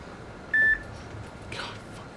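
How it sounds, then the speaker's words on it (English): A single short electronic beep from a phone, fairly loud and sustained for a moment, sounding alone over a quiet background during a horror game session. "My phone beeped and scared the shit out of me."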